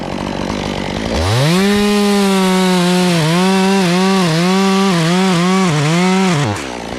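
A chainsaw boring into a dead tree, its engine revving up sharply and holding a loud, close, wavering whine as it bogs and recovers under load, then dropping off at the end.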